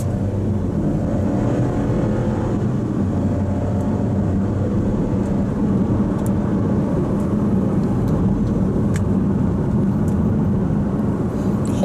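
A steady, loud car engine and tire rumble as a 2024 Buick Envista Avenir drives through a turn, constant and smooth with no speech.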